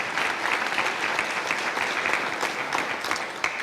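An annual meeting audience applauds the EDC staff, a steady wash of many hands clapping that continues evenly throughout, with no speech over it.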